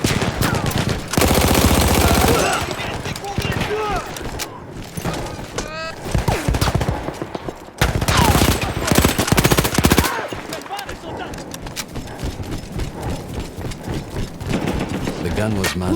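Machine gun fire in the Battlefield 1 video game, set in a World War I battle against Austro-Hungarian troops, with long loud sustained bursts and scattered shots between them, mixed with battle noise and voices speaking.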